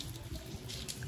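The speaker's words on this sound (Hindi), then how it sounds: "ये देखो छत से पानी गिर रहा है, पूरा रोड गीला" Rainwater dripping off a roof onto a wet road during a rainy spell, a faint, steady wet patter with scattered drips, fairly distant and with no voices.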